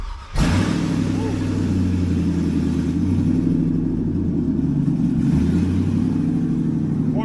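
A Toyota fitted with a swapped-in LS V8 revs while driving, a deep, continuous engine rumble that rises and settles, heard close from inside the vehicle with voices under the engine noise.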